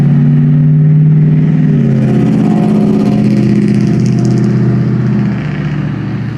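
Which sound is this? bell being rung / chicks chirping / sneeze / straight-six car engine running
straight-six car engine running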